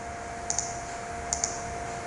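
Two pairs of sharp computer clicks, each a quick double-click, sound at a steady interval while a Delphi program is compiled, close and crisp over a faint steady room hum, with no talking.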